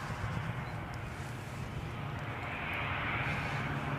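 Aircraft engine roar at Newcastle International Airport, a steady broadband rumble and hiss that swells slightly toward the end, heard close by with light wind noise and no talk.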